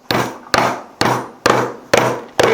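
A hammer strikes oyster shells to crack them open, six loud, close, evenly spaced blows, each with a hard thwack followed by a short decaying rattle, and no talking.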